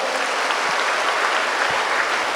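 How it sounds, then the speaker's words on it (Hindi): A church congregation applauds during a Hindi testimony service, dense, even clapping filling the space at a steady level from start to finish. "ताली बजाए।"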